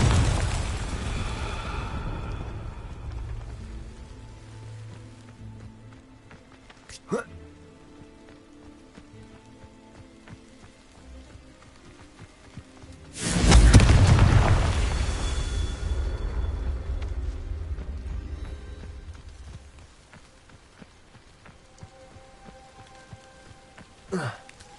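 A Confringo blasting spell detonates in Hogwarts Legacy with a sudden loud burst that rolls into a long crackling, rain-like hiss and slowly fades, preceded by a sharper brief crack and faint ambient background.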